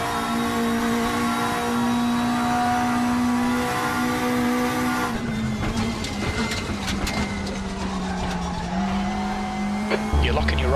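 A race car in RaceRoom online racing locks its right rear wheel under braking on cold rear brakes, a tonal tire squeal over the loud droning engine and gear changes, with a voice talking over it.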